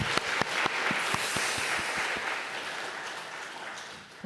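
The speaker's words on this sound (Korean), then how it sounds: "우리 하나님께 큰 박수 올려드리겠습니다" Church congregation applauding during a Sunday morning worship service, a dense wash of many hands clapping that opens with a few sharp individual claps and holds steady to the end.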